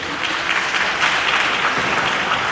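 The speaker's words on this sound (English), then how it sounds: "please give them a round of applause." Sustained applause from a graduation ceremony audience thanking the sound company, steady and dense throughout with a faint voice in the background.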